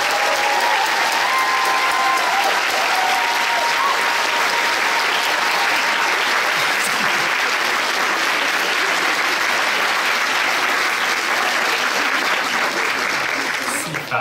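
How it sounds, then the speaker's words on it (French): Sustained, loud applause rolls through a large crowd at a regional science fair finale, honoring the exhibitors for over fourteen seconds with a few voices and cheers blended in. "j'aimerais qu'on applaudisse vraiment chaudement, fortement nos 70 exposants de cette année"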